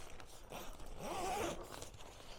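The zipper on a Soomloom cot tent is pulled in a quick, close, quiet rasp lasting about a second, with soft fabric rustling around it.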